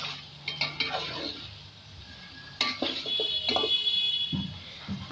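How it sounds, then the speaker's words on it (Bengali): Singi fish sautéing with turmeric in a pan, with a low sizzle and intermittent clinks and scrapes of a utensil against the pan, close by, a brief quieter stretch midway. "শিং মাছগুলো কষিয়ে নিতে হবে"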